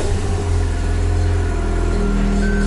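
A Mazda RX-8 rotary engine fitted with new spark plugs and ignition coils runs loud and close just after starting, a steady low hum with slight revving.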